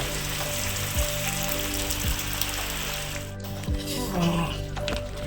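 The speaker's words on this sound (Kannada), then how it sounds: "ಸಿಕ್ಕಾಪಟ್ಟೆ ಮಳೆ ಬರ್ತಾ ಇದೆ." Heavy rain pours steadily on a village setting near Shivamogga, a dense continuous hiss with occasional soft knocks underneath and a steady low hum running throughout.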